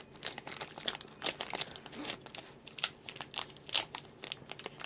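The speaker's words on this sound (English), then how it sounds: "opening my card booster pack so I need both hands" Foil wrapper of a Pokémon Sun and Moon Forbidden Light booster pack being worked open by hand without scissors, giving close, crisp crinkling and tearing in repeated short bursts throughout.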